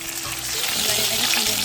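Chicken sizzles steadily in hot oil, a dense close crackle with no voices over it.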